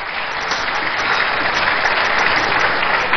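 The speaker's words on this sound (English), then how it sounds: "Let's give a round of applause for him again." A crowd at a labour union gathering in a university great hall applauds a teachers' union speaker, with steady and fairly loud clapping that runs unbroken from start to finish.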